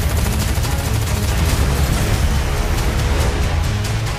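Dense gunfire volley from an action movie trailer, a loud, continuous roar of overlapping shots and booms that lasts the whole stretch without a break.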